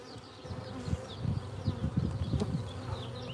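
Honeybees buzzing at an open hive during an inspection, a dense, faint, continuous hum with individual bees droning close by at moments, and nobody speaking.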